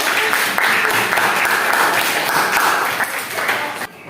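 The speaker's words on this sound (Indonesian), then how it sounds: "Tepuk tangan untuk Azahira." Classroom applause for a student, a loud, continuous patter of many hands that fades slightly near the end.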